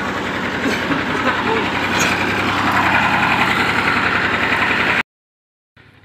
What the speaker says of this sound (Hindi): ट्रैक्टर का भी काफ़ी ज़ोर लगवाया गया